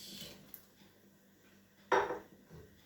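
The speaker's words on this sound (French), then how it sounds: "Mélange un petit peu. Et je vais recouvrir." A pot of couscous stew with turnips is stirred gently with faint scraping, then a lid comes down on it with a single clear clank, close by and with no talking.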